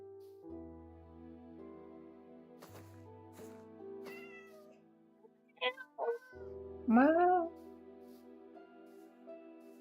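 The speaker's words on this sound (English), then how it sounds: "Cat noise, cat noise, cat noise." A cat meows a few times in rising, wavering calls, fairly close and clear, over a quiet background hum with faint speech.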